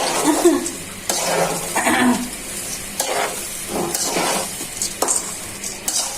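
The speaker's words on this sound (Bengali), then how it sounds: "ভালো করে চাউলটা ভাজা হয়ে গেছে" Rice is fried in homemade ghee in a pot for pulao, with a soft sizzle under repeated scraping stirs that come in uneven bursts, close up and with no talking.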